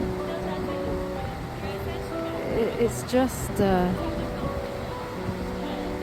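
Gullfoss, the Golden Waterfall in Iceland, partly frozen and partly flowing, gives a constant broad rushing roar that sits under someone talking throughout.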